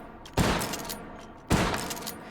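A Winchester 1873 lever-action rifle fires twice in the VR shooter H3VR, two sharp loud gunshots about a second apart, each followed by a short ringing decay.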